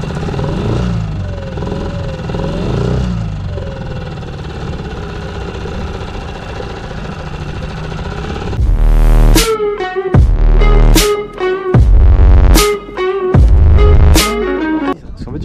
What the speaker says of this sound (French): Le moteur, regardez cette puissance de feu là.